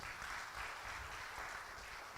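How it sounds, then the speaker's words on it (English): Audience at a performing arts conference applauds for a speaker, a steady wash of clapping from many hands at moderate volume and even intensity from start to finish. "another round of applause for Tash"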